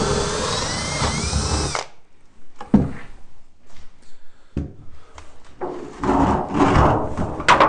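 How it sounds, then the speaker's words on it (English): A drill with a 1/2-inch spade bit boring into wood while building a Layens beehive, loud whirring for nearly two seconds, then scattered short bursts, bumps and scraping handling noises. "So when I start this, using a 1/2-inch spade bit, and I get it just started"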